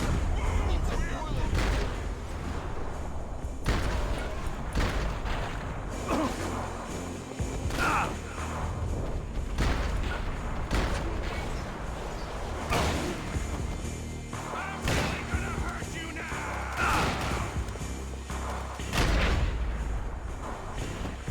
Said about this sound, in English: I'm about to say, I hear gunfire.